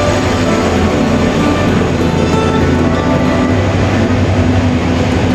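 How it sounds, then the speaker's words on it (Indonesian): Rapid train number 133, bound for Laos, arrives at Honkaen station with a loud, continuous rail rumble and rolling wheel noise that runs steadily without a break. "keretanya tiba di stasiun Honkaen tepat sesuai jadwal"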